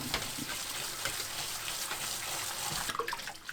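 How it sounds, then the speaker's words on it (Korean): Cooked noodles are rinsed under cold running water, with a steady splashing rush and faint squelching as they are handled, continuous and close. "국수를 찬물에 헹궈냅니다."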